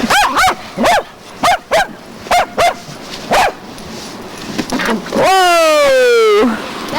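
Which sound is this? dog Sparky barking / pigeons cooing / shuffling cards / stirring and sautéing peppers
dog Sparky barking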